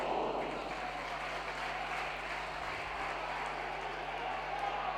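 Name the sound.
applause at a football match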